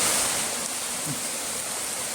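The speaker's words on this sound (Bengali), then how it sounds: "বিরাট বৃষ্টি আসছে, জোর বৃষ্টি।" Heavy monsoon rain pours down steadily, a dense, loud and unbroken hiss close by with no voices over it.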